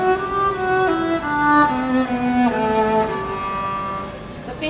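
Orchestral string instruments bowed legato, smooth connected notes gliding from one pitch to the next in a sustained, continuous line with no gaps, moderately loud and close.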